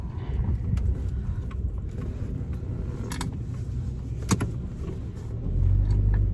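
A 2002 Mitsubishi Lancer on a short test drive around the block, its engine and road noise a steady low rumble throughout, with a few sharp clicks and a louder swell near the end.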